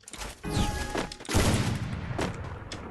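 Two sniper rifle shots fire in the Free Fire game, one close after the other, each a sharp, booming crack with a short ringing tail, played alone with no talk.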